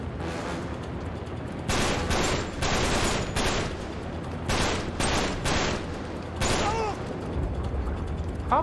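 Uncharted 3: Drake's Deception firefight, with loud bursts of automatic gunfire coming in repeated volleys separated by brief pauses, plus mechanical clatter and occasional voices in the mix.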